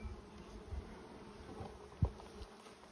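Honeybees buzz in a beehive during a brood inspection, a quiet, steady hum close by with a few soft knocks, and no talking.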